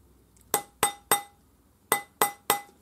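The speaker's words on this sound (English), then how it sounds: "and then when you hammer it" Metal hammer strikes on a silver ring fitted over a steel ring mandrel, six sharp ringing taps in two groups of three, close and clear with brief metallic ring after each.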